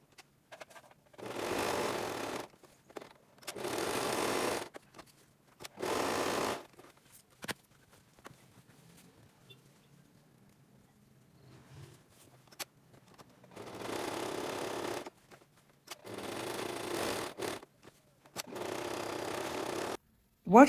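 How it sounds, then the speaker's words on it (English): A sewing machine stitches the sides of a fabric apron in several separate bursts of rapid mechanical whirring, each a second or two long, broken by quiet pauses and soft handling of cloth. "So go to the machine and sew the two sides."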